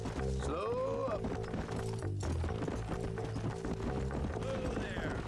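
Horses galloping in the Western video game Red Dead Redemption, a steady rolling clip-clop of hooves under constant game music and ambience, with a brief whinny.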